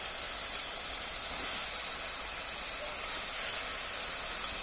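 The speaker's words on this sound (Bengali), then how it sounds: "এখন এই পর্যায়ে যে টমেটোগুলো আছে সেটা এর মধ্যে দিয়ে দিচ্ছি।" Tomatoes drop into a pan of frying eggplant and potato, giving a steady bright sizzling hiss that runs evenly throughout with no talk.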